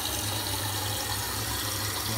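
Tap water pours steadily into the reservoir of a church coffee machine, a continuous close rushing stream with a low resonant fill tone and no talking.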